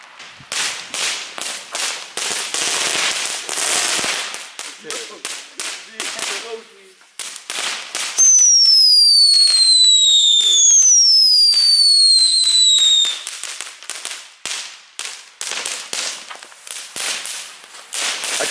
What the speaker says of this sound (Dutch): Hey, die knetterballen XL zijn wel gaande